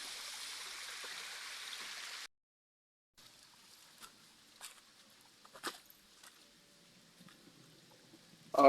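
Creek water flows steadily at close range, a broad hiss that stops abruptly partway through, then gives way to quieter trickling with faint scattered splashes and footstep-like crunches.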